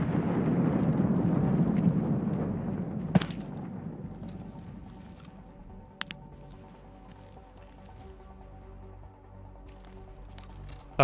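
Grenade going off in Escape from Tarkov: a broad, rumbling blast that fades over a few seconds, followed by scattered sharp cracks and clicks in a quieter background.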